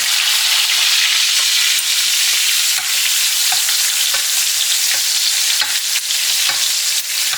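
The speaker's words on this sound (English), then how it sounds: "I'm just gonna cook this a little bit more. Flip it over one more time." Steak cooking in browning butter in a pan, a loud close continuous sizzle with small spattering pops scattered through it and no speech.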